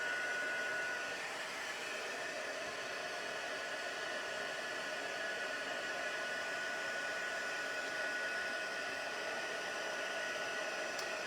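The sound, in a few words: heat tool blowing hot air to melt embossing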